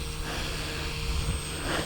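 Large brushless RC helicopter with throttle being pushed up, a steady droning rotor and motor hum with a constant whine, moderately loud and continuous.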